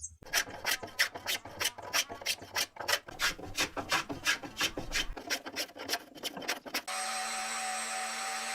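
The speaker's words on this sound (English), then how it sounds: "Every wooden surface is smoothed with an electric sander to eliminate rough patches and imperfections." Wooden surfaces in a traditionally joined mountain house are worked with rapid rhythmic rasping strokes, then an electric sander starts with a steady, even whir near the end.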